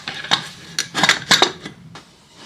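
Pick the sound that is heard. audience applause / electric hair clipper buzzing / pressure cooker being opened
pressure cooker being opened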